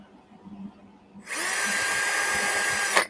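After a quiet start, a power drill whirs up loud and steady for about two seconds, then cuts off abruptly.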